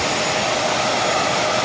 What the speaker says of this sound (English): A really good vacuum by my review.